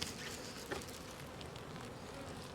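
Honeybees on a brood frame moved into a new nucleus hive during queen rearing give a steady, dense buzzing close by, with one brief louder swell near the start.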